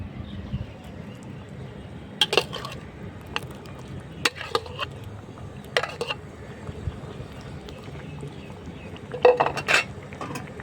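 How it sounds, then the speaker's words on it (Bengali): Fried prawns tipped into a hot cooking pan for a Bangladeshi prawn bhuna, giving sharp clanks and clinks of metal utensils against the pan in irregular bursts over a low steady background. "দেখো এবার দিয়ে দিচ্ছি ভেজে রাখা মাছগুলো"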